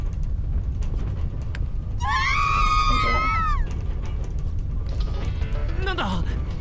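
A character in the Corpse Party horror video game screams during an earthquake: one long, loud wavering shriek lasting over a second, then a shorter falling cry, over constant rumbling game noise.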